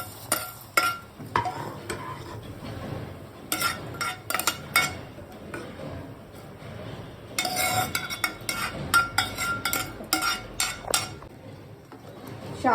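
Vermicelli being stirred into milk with crushed almonds in a pot, with irregular bursts of a spoon scraping and clattering against the metal, separated by short quieter gaps; a voice is faintly heard at times.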